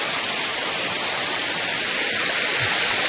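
Floodwater after rain rushes past in a loud, steady roar, a dense unbroken wash of turbulent water up close with no voices over it.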